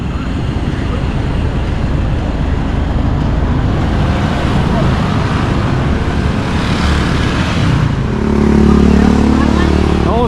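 Vehicles pass steadily along a highway near El Nido, Palawan, in the Philippines, with engine noise and road roar building to a louder, closer pass near the end; spoken voices are faintly present under the traffic.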